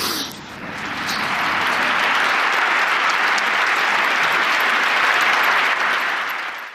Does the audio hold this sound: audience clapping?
yes